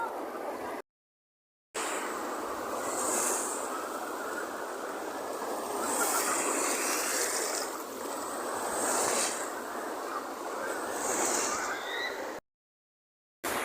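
Steady broadband wash of Baltic Sea surf rolling in at Kołobrzeg, with gentle swells rising and falling over a low rumble, interrupted by two brief dropouts.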